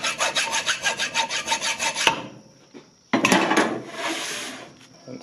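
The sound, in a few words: cleaning the bolt slot on a Case 430 steering box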